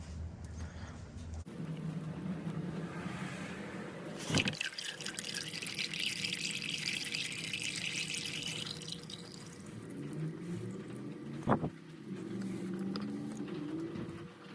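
Old engine oil from a high-mileage Honda Civic drips and trickles steadily into an oil pan, a close continuous liquid patter with a couple of sharp metallic knocks.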